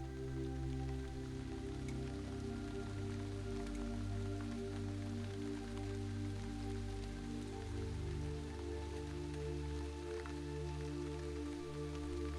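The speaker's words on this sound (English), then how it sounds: "it begins to lightly rain" Light rain falls steadily as a soft, even patter on surfaces, joined by a low, constant drone, faint and continuous throughout with no talking.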